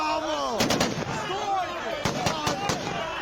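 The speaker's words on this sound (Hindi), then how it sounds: "लेकिन बात बिगड़ती देख उन लोगों ने हवा में जबरदस्त फायरिंग की" Security forces fire heavy gunfire into the air during a protest, several sharp shots in quick clusters rising over a crowd's steady shouting and voices.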